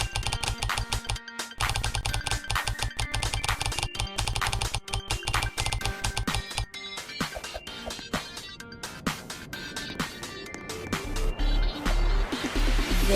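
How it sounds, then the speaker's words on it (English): Rapid typing on a computer keyboard while playing a Roblox-style find-the-markers game, a dense stream of close clicking keystrokes running throughout with game sounds underneath. "So all you have to do is just keep typing until it shows"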